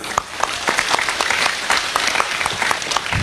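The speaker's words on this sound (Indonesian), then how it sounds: "Tepuk tangan untuk panitia" Loud audience applause at a large Islamic religious gathering in Ngawi, Indonesia, acknowledging the organizing committee; vigorous, crowded clapping with sharp individual claps standing out throughout.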